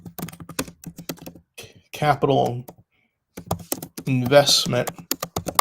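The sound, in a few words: typing on a computer keyboard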